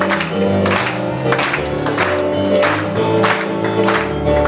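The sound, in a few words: audience clapping hands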